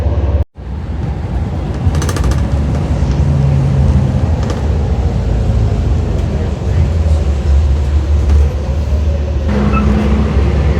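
Inside a moving city bus in Canada, a loud continuous engine drone and road rumble fill the cabin, with faint rattles and no clear talk.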